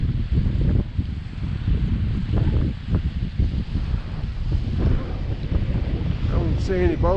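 Strong wind roars across Brantley Lake, a loud continuous blustery rumble hitting the microphone, with a brief warbling bird call near the end.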